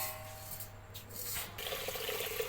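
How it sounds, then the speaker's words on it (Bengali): Tap water runs steadily into a sink basin as rice is washed for khichuri, a soft continuous splashing stream at moderate distance with no voices. "এখন চাউলটাকে ভালো করে ধুয়ে নিচ্ছি বেসিনে।"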